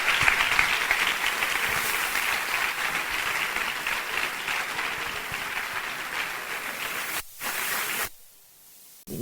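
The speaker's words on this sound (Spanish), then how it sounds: "Un aplauso" Roundtable audience applauding in a hall, a steady, dense clapping that fills the room for about seven seconds before cutting out abruptly into near silence.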